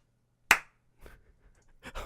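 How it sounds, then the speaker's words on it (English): One sharp, loud hand clap rings out of silence, followed by faint scattered rustles and soft noises. "I just had to start clapping"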